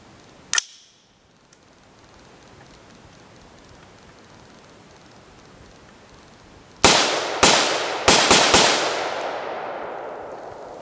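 Rifle fired with a 20 inch FN USA upper outdoors: one sharp shot, a long quiet pause, then a rapid string of four or five loud cracks with ringing echoes trailing off.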